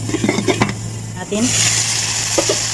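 Chicken is stirred in a pot. Several quick utensil scrapes and clinks come first, then a louder, steady sizzle rises and holds. The sound is close and clear, with a low hum underneath.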